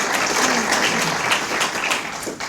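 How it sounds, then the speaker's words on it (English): An audience at a blockchain event claps in a full, sustained burst, bright and continuous throughout, fairly loud and close. "So let's do a round of applause."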